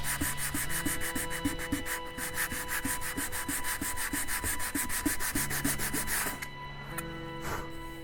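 Sandpaper rubbed on the plastic of an Enterprise refit arboretum scale model. A close, rhythmic back-and-forth scratching of quick strokes runs steadily without a break, with faint pitched tones underneath.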